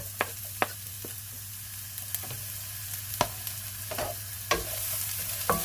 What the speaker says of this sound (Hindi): ये थोड़ा सा तेल डाला, इसमें थोड़े से प्याज डाले,